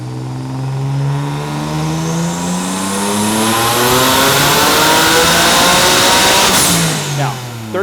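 Turbocharged Nissan 370Z engine on a dyno at high boost, 14.7 psi, revving in one long sweeping pull that climbs steadily in pitch and stays loud and close throughout, then cuts off near the end.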